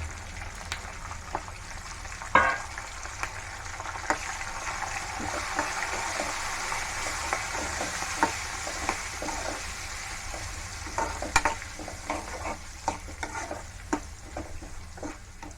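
Curry leaves and turmeric sizzling in hot oil in a pan for pulihora, a steady crackling fry with occasional stirring scrapes and sharp pops, close and moderately loud throughout.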